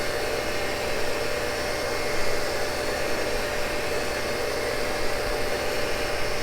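A Cincinnati tool and cutter grinder precision-grinding a Morse taper, taking a thousandth at a time, gives a loud, continuous motor whine with a steady high tone and constant grinding hiss, with no voices.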